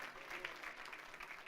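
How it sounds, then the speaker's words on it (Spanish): A church congregation claps for the King of Glory, a steady, fairly faint spatter of applause that runs for the whole short stretch. "Denle un fuerte aplauso al Rey de la Gloria conmigo"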